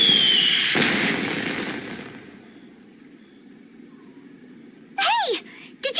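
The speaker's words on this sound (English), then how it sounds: "Did you hear that explosion? Maybe it was fireworks." Fireworks burst in the game Genshin Impact, a loud crackling blast that fades over a couple of seconds into quiet, followed by brief sweeping electronic chimes near the end.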